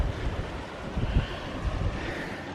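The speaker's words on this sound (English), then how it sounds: "the water coming down from up higher through these rocks" Mountain stream water rushing down through rocks near a lake on a backpacking trip at dusk, a steady close broadband wash with gusty wind noise mixed in and no voices.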